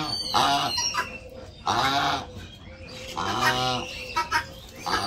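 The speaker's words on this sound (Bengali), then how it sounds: "সকালবেলায় পাখি আনাগোনা আর খালি পাক পাক কক কক কক কক করে।" Village chickens clucking loudly and close by in the morning, several drawn-out squawking calls in bursts with short pauses between them.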